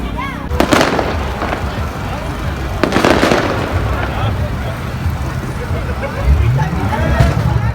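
Fireworks burst over festive street celebrations in Jackson Heights, New York: sharp cracks and booms stand out above a constant crowd roar, with people talking nearby throughout.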